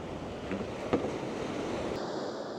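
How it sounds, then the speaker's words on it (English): Ocean waves at a pier on a beach, a steady soft wash of surf with breezy wind noise, continuous and fairly quiet, with a brief tap near the middle. "Listen to the waves from the DJI Mic 2."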